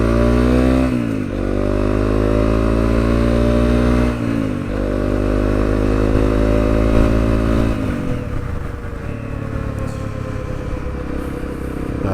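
A 2017 Honda CRF250L single-cylinder motorcycle ridden on slick roads, its engine loud and close, climbing through gears with clear shifts and steady revving, no talking.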